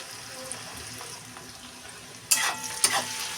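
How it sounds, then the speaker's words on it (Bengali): Onions fry quietly over low gas in a pan, a soft steady sizzle heard close up, broken by two sharp bursts of louder sizzling near the end. "দেখো পেঁয়াজটা কিন্তু বিলকুল ভাজা ভাজা হয়ে গেছে"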